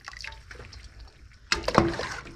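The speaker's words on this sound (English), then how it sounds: "we're just going to take it out of the hot boiling water" Carrots are lifted out of hot boiling water for dehydrating, with soft dripping and trickling at first, then a sudden louder splash and a burst of pouring water streaming back into the pot, close by and without talk.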